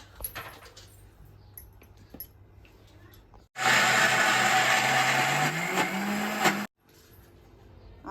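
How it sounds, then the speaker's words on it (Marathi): A kitchen mixer grinder whirs loudly for about three seconds while it grinds dry dal with no water, rising slightly in pitch before stopping. Quiet speech and small kitchen clatter surround the grinding. "थोडीशी तिने फिरवून घेतलेलं आहे मिक्सर मध्ये"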